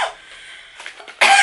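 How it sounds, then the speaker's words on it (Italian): A woman gives a sharp cough at the start, then a few softer throat sounds, ending in a louder raspy burst of coughing, close to the microphone. "a me sta ufficialmente venendo la tosse"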